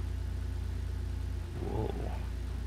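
Lamborghini Urus engine in GTA 5, a steady low idle rumble that swells into a brief rev near the middle, then settles back to idle, with no talk over it.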